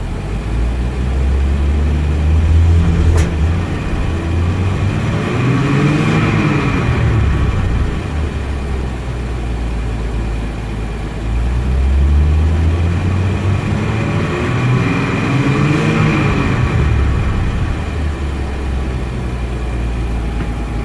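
A car engine revving slowly in two long, smooth swells that rise and fall back toward idle, loud and close, with a steady low rumble throughout and no talk.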